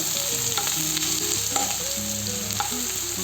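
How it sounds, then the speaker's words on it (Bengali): Chopped garlic and onion fry in hot oil with a constant, dense sizzle, while low background tones and a few light clinks sound beneath it and no one speaks. "তেল গরম হয়ে গেছে, এখন দিয়ে দিচ্ছি আমি রসুন কুচি আর পেঁয়াজ কুচি।"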